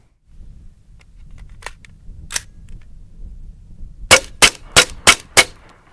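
AR-15 with an 18-inch barrel firing RUAG SS109 rounds at body armour: a few scattered sharp cracks, then five loud, evenly spaced shots in quick succession near the end.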